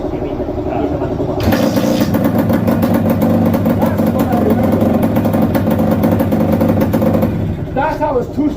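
A two-stroke engine on a home-built chopper motorcycle idles steadily and loud up close, its buzzing tone holding even for several seconds before dropping away near the end, with a voice faintly underneath.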